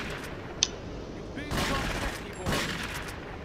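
Gunfire in the game GTA 3: a sharp single shot followed by two broader bursts, each sounding once and fading, over steady game background noise.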